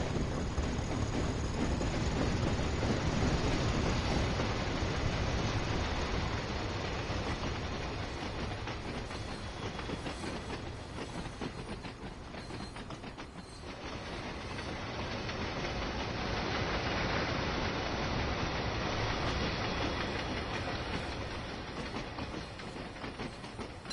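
Train running on rails in the Train Sim World game on the Tees Valley line, a continuous rolling rumble with faint rhythmic rail-joint clatter, steady and fairly quiet, with no voices.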